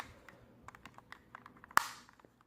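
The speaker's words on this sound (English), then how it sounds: "You can hear the clicking." Light plastic clicks from PS3 controller buttons tap out an irregular rhythm close by, with one louder snap partway through before the clicking trails off.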